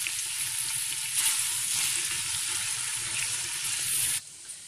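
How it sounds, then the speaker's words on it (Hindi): Onions fry in melted ghee for a beef trotters (paye) dish, giving a steady, close, dense sizzle with light stirring that cuts off sharply near the end. "मैं इसके अंदर प्याज को ऐड कर रही हूँ और प्याज को हमने फ्राई कर लिया"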